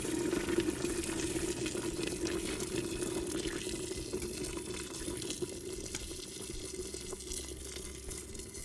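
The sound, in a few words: pouring boiling water into pot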